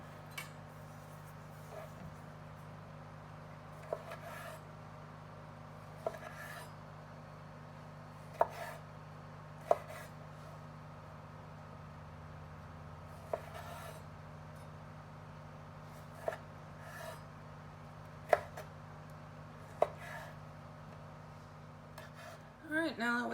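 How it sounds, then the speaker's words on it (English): Sparse, sharp knife taps on a cutting board as cherry tomatoes are chopped, spaced irregularly over a steady low kitchen hum. "we're going to move on to getting our cherry tomatoes diced up, chopped up"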